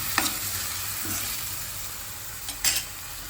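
Soaked rice tipped into a sizzling spiced tempering in a pan for pulao, with steady frying hiss and a few sharp scraping stirs at the start and end.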